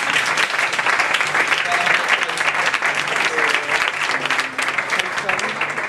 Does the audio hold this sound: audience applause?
yes